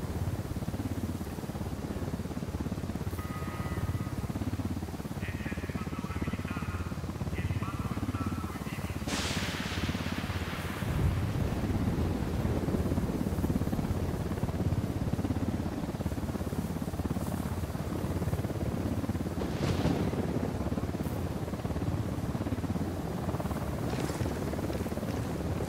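Helicopter rotor thrum from Ghost Recon Wildlands rolls on steadily and loud for a long stretch, with a few brief bursts and faint electronic chirps rising over the continuous drone.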